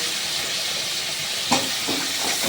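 Spices frying in a pan with chopped tomato going in, a loud steady sizzle with a sharp clatter and burst of frying near the middle, then stirring scrapes, no voices.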